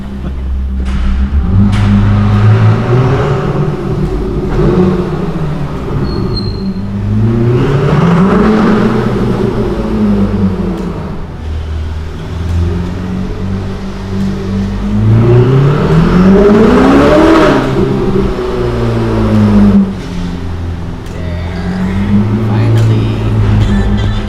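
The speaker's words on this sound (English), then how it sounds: "The RYFT exhaust sounds so good." A Ferrari 488 fitted with a RYFT titanium exhaust revs loudly up and down in several rising and falling sweeps over a steady idle rumble, heard up close.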